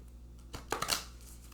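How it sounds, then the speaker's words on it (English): Cards are shuffled and pulled from a deck, making a few quick soft riffles and flicks close by in a quiet room. "So I will pull 3 cards."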